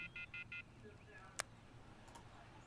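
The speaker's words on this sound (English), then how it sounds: "I took out my cell phone and dialed the first number from my contact list" A cell phone in the Everlasting Summer video game dials a number: a quick run of four short electronic key tones, then a sharp click and a fainter tone, all quiet and close.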